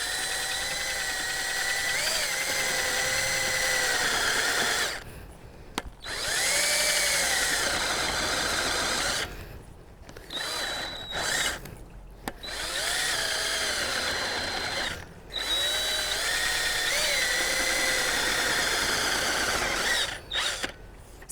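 A Drill Till tiller attachment grinding into hard garden soil, a loud steady mechanical whine with harmonic tones that cuts out in several short pauses and restarts, running alone without talk.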